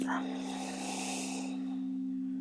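A strong, full breath taken during a Hatha yoga core-strength session: one long, airy exhale up close that fades after about a second and a half, over a steady low electrical hum.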